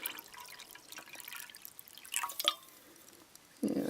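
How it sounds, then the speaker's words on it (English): Water is poured into a BCB Crusader metal cup on a Greenheat gel fuel stove, heard as light, scattered dripping and trickling, ending with a short, fuller splash of liquid filling the cup. "Now fill it with the normal amount of water I usually do for a boil up."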